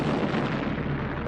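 Cannon fire from the 1453 Ottoman siege of Constantinople's walls, a dense continuous rumbling barrage of booms and blasts, loud and close, with no talk.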